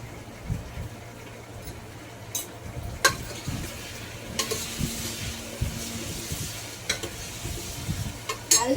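Vegetables fry in a pan at home, with a steady close sizzle and repeated scraping strokes of a spoon stirring against the metal.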